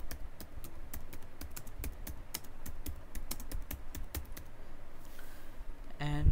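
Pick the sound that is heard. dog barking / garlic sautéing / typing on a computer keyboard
typing on a computer keyboard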